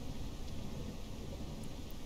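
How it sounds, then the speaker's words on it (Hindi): Rain pours steadily in the Ranch Simulator game, a constant broad hiss with a low rumble of thunder underneath, no voices. "बारिश अभी स्टार्ट होनी थी क्या यार"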